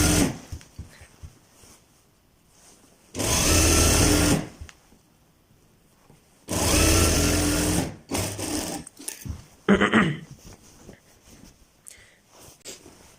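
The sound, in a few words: sewing machine stitching salwar fabric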